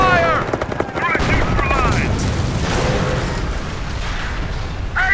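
Rapid machine-gun bursts and single shots rattle constantly in a Company of Heroes D-Day campaign battle, with booming impacts and soldiers' voices shouting over the firing.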